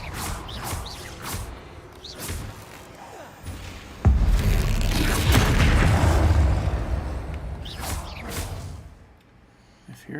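Spell blasts in the Hogwarts Legacy video game: a sudden deep boom opens a long rumbling explosion that slowly fades, followed by whooshing effects as a voice speaks over the game.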